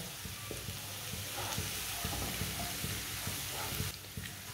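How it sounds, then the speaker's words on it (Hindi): Chopped garlic fries in a pan and is stirred with a spoon: a steady, close sizzle with repeated scraping strokes throughout, no voices. "ऐसे ही चम्मच चलाते हैं इसे पका लेना। इसे जलने नहीं देना, कड़वा हो जाएगा लहसुन।"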